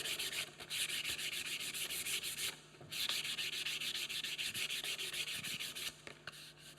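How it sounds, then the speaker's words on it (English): Light hand sanding of a wooden joiner's mallet with 250 grit sandpaper: quick, rhythmic back-and-forth rasping strokes, close and clear, briefly pausing twice. "A little light sanding,"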